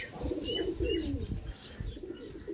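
Madrasi (Chennai line) pigeons coo in low, throaty, repeated murmurs, with a few faint chirps above them, close by and continuous.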